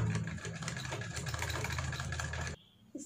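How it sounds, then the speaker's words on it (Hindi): Sewing machine stitching along a garment collar, a steady whirring mechanical hum running close and continuous for about two and a half seconds, then stopping abruptly into near silence. "इस तरह हमें प्ले करते करते पूरा ऊपर से सिलाई लगाना है।"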